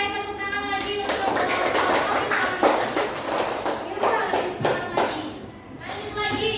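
A class of students in a lesson claps together in a brisk burst, with children's voices mixed in. The sound is close and moderately loud.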